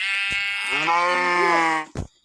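A single long, wavering sheep bleat from Minecraft Bedrock Edition, loud and close, ends with a short soft thump.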